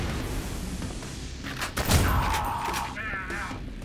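Gunfire and explosive blasts from shooting in the first-person shooter Ion Fury, a sustained burst of loud shots with a heavy boom in the middle, over constant game background noise.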